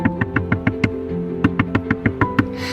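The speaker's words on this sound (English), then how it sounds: "She hears this frantic knock on the door." Frantic knocking on a door, a burst of six quick raps, a short pause, then another rapid run of about seven knocks, close and sharp.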